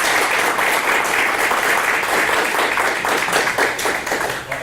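A room full of people applauding after a mayor's statement, sustained dense clapping at close range that holds strong throughout.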